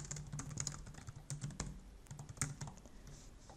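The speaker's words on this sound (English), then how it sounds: "you can just start typing" Quiet, rapid keyboard typing with irregular clicking keystrokes and brief pauses, close by with no talking.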